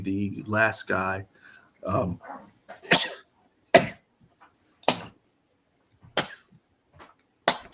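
A single abrupt sneeze bursts out amid casual conversation, with several short sharp coughs or throat sounds scattered through the pauses between speech.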